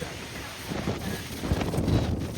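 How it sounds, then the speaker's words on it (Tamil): Strong wind buffets the microphone continuously outdoors on a hill descent, with a rumbling, gusty roar that swells toward the end. Faint voices mix in under it. "செல்லே விழுந்துரும் போல இருக்கு அடிக்கிற காத்துக்கு."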